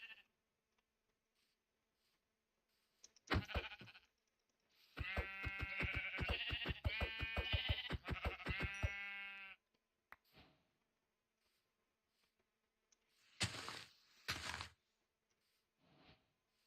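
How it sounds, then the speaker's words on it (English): Sheep in the video game Minecraft bleat in short, buzzy, nasal calls, one brief cry, then a longer run of overlapping bleats, then another pair after a quiet stretch, all fairly soft with no talking. "Heard that. Heard that sheep."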